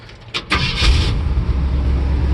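A 1965 Ford F250 Custom Cab Camper Special with a 352 V8 cranks briefly and fires right up, settling into a steady, loud, rumbling idle close by.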